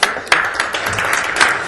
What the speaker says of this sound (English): We'll clap in her absence.